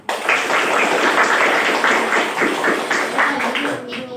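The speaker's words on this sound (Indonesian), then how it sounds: "tepuk tangan untuk kita semua" Classroom of pupils clapping together in a brisk, fairly loud burst of applause that tapers off at the end, with a few voices mixed in.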